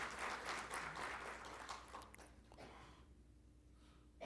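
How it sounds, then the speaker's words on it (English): Audience applause for a guest speaker at a tax seminar, a faint, distant patter of clapping that thins out and fades after a couple of seconds. "Let's have a big round of applause for the sir."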